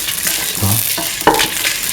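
A spoon stirs salt into coconut milk stew frying in a pan, soft scraping strokes over a steady, gentle sizzle.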